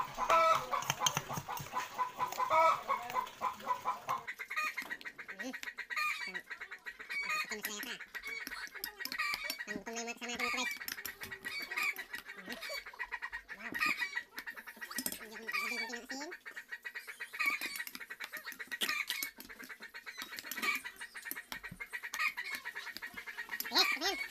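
Chickens cluck and squawk throughout, a busy barnyard chorus layered over background music, fairly close and continuous.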